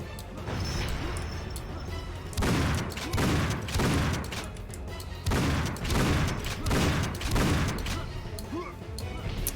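Gunfire and heavy impacts in the first-person shooter Painkiller Hell & Damnation arrive in dense bursts of blasts and crashes, loud and close, with some game voice mixed in.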